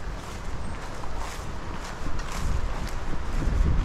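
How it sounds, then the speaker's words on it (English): Strong wind on a hill buffets the microphone with a continuous rough roar, gusting louder toward the end, with no voices over it. "that's a pretty strong wind"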